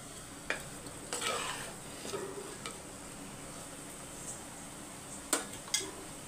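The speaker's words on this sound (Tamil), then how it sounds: "நல்லா மிக்ஸ் பண்ணி விட்டுக்கோங்க." A spoon stirs tamarind fish curry with sardines and raw mango in a pan, giving faint scraping strokes and a few sharp clinks over a quiet simmering hiss.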